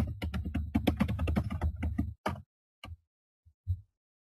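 Rapid keystrokes on a computer keyboard, typing a name into a messaging field, fill the first two seconds as a dense close run of clicks, followed by a few isolated taps separated by silence.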